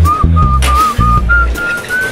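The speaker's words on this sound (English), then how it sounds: "Stop whistling." A person whistles a series of short sustained notes, clear and close, in a busy restaurant kitchen over low background thuds and clatter.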